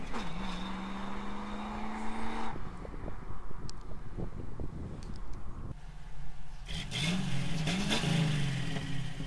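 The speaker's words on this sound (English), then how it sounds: "I just like the way it sounds coming from a Cherokee. I never thought I'd hear a V8 rumble" V8 engine in a Jeep Cherokee XJ: a continuous deep rumble with shifting revs and rising, falling pitch, mixed with wind noise throughout.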